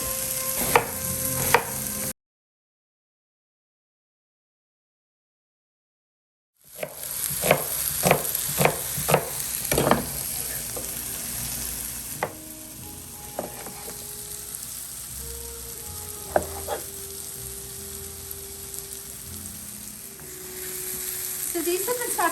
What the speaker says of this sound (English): So these have been sauteing for 4 or 5 minutes.